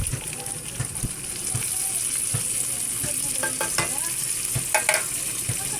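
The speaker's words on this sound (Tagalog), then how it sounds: "So, ilagay natin si mushroom." Mushrooms hit a hot pan with garlic and onion for garlic pepper pork, giving a steady close sizzle of frying with occasional clinks and scrapes of stirring.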